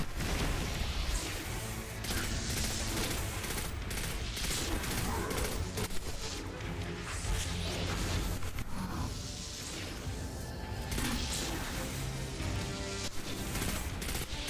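Gunfire and grenade explosions in Destiny 2 Forsaken, a dense, steady din of shots and booms blended with game music and effects, fairly faint overall.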